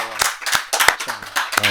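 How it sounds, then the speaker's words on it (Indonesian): Audience clapping during an Indonesian talk show, a short burst of claps mixed with cheering voices and speech, fairly loud and close. "Tepuk tangan dulu."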